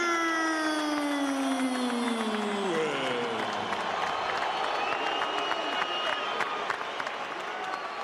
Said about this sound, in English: Great atmosphere and a big crowd at the Staples Center for what could be a dramatic fight